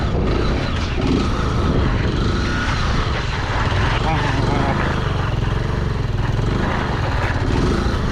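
Kawasaki Z125 motorcycle engine droning loud and steady up close during circle wheelies, a continuous revving drone with slight surges, mixed with wind noise.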